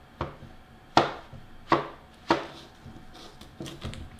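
A knife cutting a piel de sapo (Santa Claus) melon into strips on a board, about six distinct chopping knocks at irregular intervals, close and clear against a quiet room.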